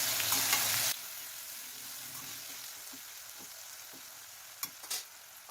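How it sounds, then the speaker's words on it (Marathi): Three finely chopped medium tomatoes sizzling in a pan for a cauliflower sabzi, a soft steady fry with a few light stirring clinks, louder for the first second then quieter. "टोमॅटो आता छान परतून घ्यायचं यामध्ये"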